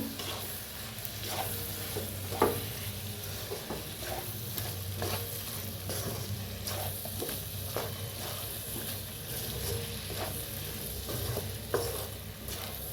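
A spoon stirs masala into sambar in a pan, giving a soft continuous sizzle with a few scraping clinks against the pan at irregular intervals, alone without talk.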